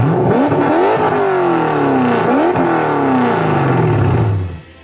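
A car engine with a turbocharger revs hard and loud, climbing and dropping in repeated sweeps of rising pitch, close up and heard alone before it cuts off at the end.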